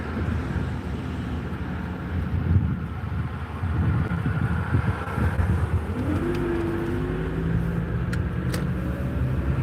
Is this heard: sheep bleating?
no